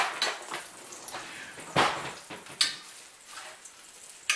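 Pork chops sizzle in a pan and get flipped over, with soft frying hiss broken by several sharp clinks and clatters of a utensil against the pan, close and fairly quiet.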